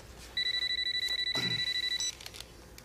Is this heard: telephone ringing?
yes